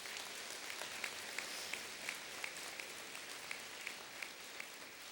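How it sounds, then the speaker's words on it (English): Steady applause from a commencement audience honouring distinguished guests, a broad continuous patter of many hands heard from some distance, with a few louder individual claps ringing out at regular intervals. "please, a round of applause for our distinguished guests"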